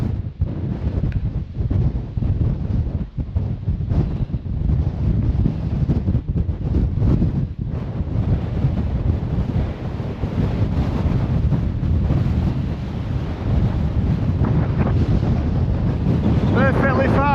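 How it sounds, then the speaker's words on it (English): Gale-force gusts of 40 to 50 mph batter a Chinook tent at a Lake District wild camp, a loud continuous roar of buffeting wind and flapping fabric with heavy low rumble throughout, steady and close. "That's 40 plus mile an hour winds gusting up to 49, maybe 50 mile an hour."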